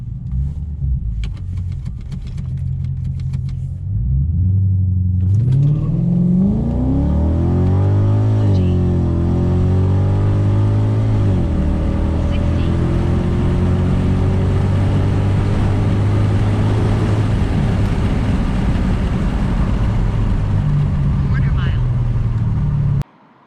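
An Infiniti Q45 on E85 fuel launches down a drag strip on an eighth-mile run, its engine roaring and climbing through the gears, loud and sustained before cutting off abruptly.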